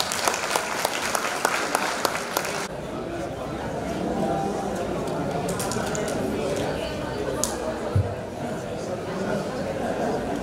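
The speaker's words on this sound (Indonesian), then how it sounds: "Beri tepuk tangan untuk kita semua" Crowded applause breaks out at a Lions Club charter night in Indonesia, a burst of sharp clapping at first that settles into a lively hall full of chatter and scattered claps, with talk continuing throughout.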